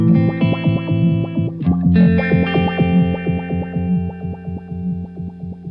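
An electric instrument runs through a GFI System Rossie envelope filter in step filter mode at range 0, producing distorted, rhythmic tones with stepped filter sweeps that sound darker and muffled.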